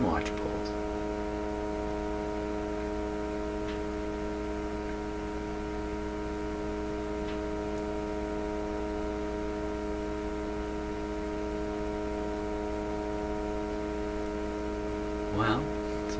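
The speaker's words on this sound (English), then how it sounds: "If you listen to the sound coming out of the speaker, the hum, I know it's just a hum" A Westinghouse 636 radio speaker gives off a steady low electrical hum with layered tonal harmonics, faint and constant throughout, with a brief click or rustle near the end.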